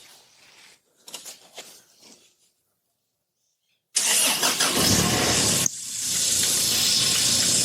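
A turbocharged Toyota 3RZ engine cranks and fires for its first start, brief faint clicks and rustling giving way to a sudden loud catch, then a steady roaring run with a hissy edge that continues to the end.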